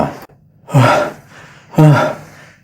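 Two heavy, breathy gasps spaced about a second apart, loud and close, each a sharp intake followed by a fading exhale, voiced as a performed breath in a narrated fantasy story.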